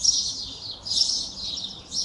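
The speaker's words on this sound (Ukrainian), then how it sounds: "Пташки так співають, ви послухайте." Birds chirp and sing in repeated high, bright phrases in the morning in Sharm el-Sheikh, Egypt, fairly close and clear, with no talking.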